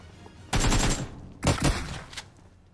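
Gunfire in a PUBG Mobile-style battle royale, two loud close bursts of blasts about a second apart, with a short trailing crack afterward.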